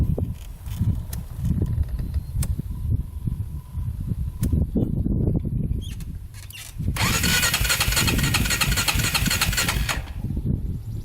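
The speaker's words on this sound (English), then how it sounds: "let's give her a crank and see if she starts up here" A 400cc quad ATV engine is cranked in uneven low bursts, then catches and settles into a loud, steady idle that runs to the end.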